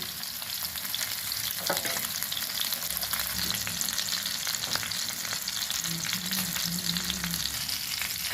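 Spicy street-style fish pieces frying in oil in a pan, a dense continuous sizzle with occasional crackles and a few light scrapes, steady and close throughout.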